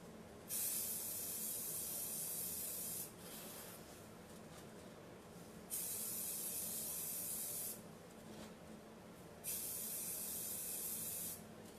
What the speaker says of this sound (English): you want to keep your spray starting off of your item and go across with smooth strokes